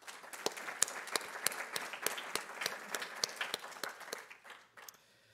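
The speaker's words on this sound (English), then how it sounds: "So how about a round of applause for Clearwater Credit Union?" A seated audience at a passenger rail summit gives a round of applause, a moderately sized crowd of distinct close claps that hold steady and then thin out and fade near the end.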